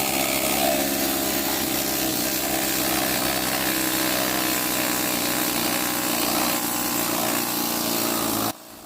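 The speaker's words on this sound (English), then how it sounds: "The needle scaler greatly reduces the amount of time it takes to remove scale" A needle scaler chatters steadily against a large piece of petrified wood, chipping away thick mineral scale in a loud, continuous buzzing rattle that cuts off abruptly near the end.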